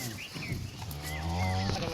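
A cow lows in a long, deep moo close by while cattle are loaded onto a vehicle at a farm, with voices faintly around it.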